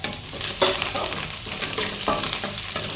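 Onions, green chillies, curry leaves and coriander stir-fried for chicken egg fried rice, a steady close sizzle with spatula scrapes against the pan repeating every second or so.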